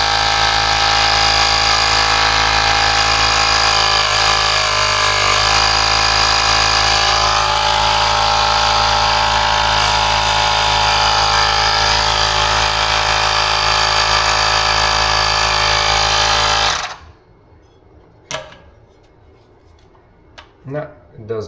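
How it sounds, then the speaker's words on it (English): An electric bicycle pump runs loud and steady for about seventeen seconds while trying to inflate a tire through a Presta head, then cuts off, leaving a few faint clicks and handling noises. "So I turn on my pump"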